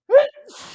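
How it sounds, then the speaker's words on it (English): A single sharp human sneeze, close and loud, trailing into a breathy exhale. "I'm just gonna sneeze one more time."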